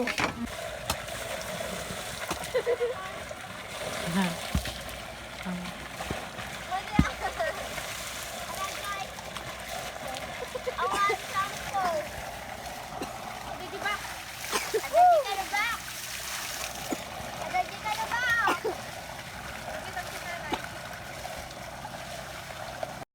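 Water splashes and sloshes in a river at a picnic spot, with irregular splashes and a gentle flowing background under frequent talking nearby.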